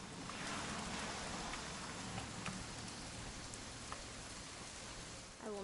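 Steady rain falls throughout a rainy-weekend scene in the video game What Remains of Edith Finch, a dense, even wash of drops on surfaces with no voices over it.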